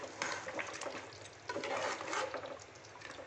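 Six boiled eggs going into a mutton gravy and being stirred, giving a steady close sizzle with wet scraping and stirring bursts that swell and ease over a few seconds.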